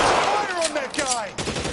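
Gunfire rattles in the video game L.A. Noire, dense overlapping shots in a loud close burst with whining ricochet-like tones, and voices are heard shouting beneath it.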